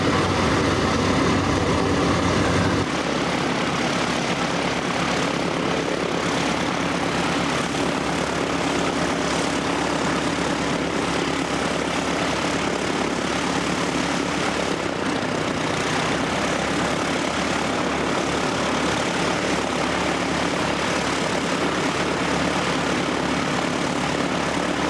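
A jet climbs out at Christchurch Airport in New Zealand with a loud, sustained engine roar. It stays close and powerful for the whole stretch as it flies past.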